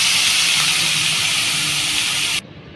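Papaya pieces hit hot oil in a pan with onion and green chili, giving a loud, steady close hiss that cuts off abruptly near the end.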